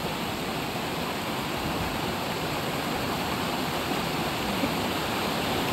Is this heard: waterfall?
yes